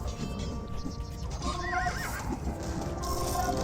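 Light cavalry horses in Age of Empires 2 neigh and whinny over steady clip-clop hooves and a dense battle din of the real-time strategy game.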